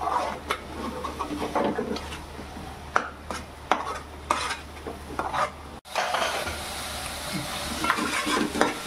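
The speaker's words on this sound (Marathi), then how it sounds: "ही टोमॅटो पेस्ट आपल्याला टोमॅटो पेस्ट शिजून द्यायची" Tomato paste sizzling in a pan over fried onions for veg biryani, a steady frying hiss with repeated scraping stirs of a spoon against the pan, close up.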